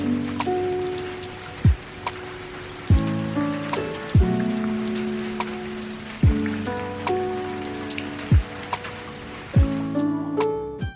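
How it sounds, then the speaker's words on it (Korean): A sudden tropical squall dumps heavy rain in Nha Trang, Vietnam: a constant close hiss of downpour punctuated by repeated louder ringing drips and splashes, with no talking. "갑자기 스콜성 폭우가 쏟아졌는데 비가 오니까 또 운치가 있어지더라고요"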